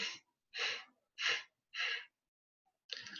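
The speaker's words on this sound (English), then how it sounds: "Inhale in 1 and exhale in 4." Breath is drawn in and pushed out during a breathing exercise, with five close, airy breaths in a steady rhythm separated by short silences.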